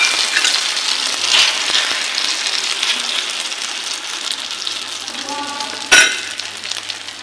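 An omelette frying in a pan, a continuous close sizzle with light stirring scrapes and a sharp clink near the end.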